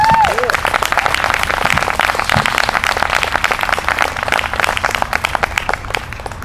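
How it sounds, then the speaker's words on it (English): Crowd applause at an outdoor rally honoring police and fire chiefs, a sustained wash of clapping with a voice briefly heard over it near the start. "can we have one more round of applause for those gentlemen,"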